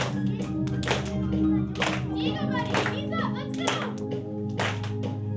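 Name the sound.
exercise class clapping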